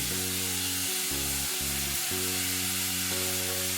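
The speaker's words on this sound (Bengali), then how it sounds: "নুন আর হলুদ দিয়ে সবজিটা আমি ভালো করে একটু ভেজে নিচ্ছি" Capsicum and carrot fry in a kadai with salt and turmeric, giving a continuous sizzle over a low, droning hum.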